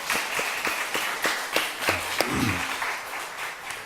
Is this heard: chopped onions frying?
no